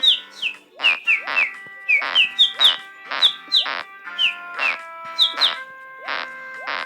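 A person whistles in imitation of a bird, giving a series of short, clear chirping notes in an irregular rhythm, close and fairly loud with no talking.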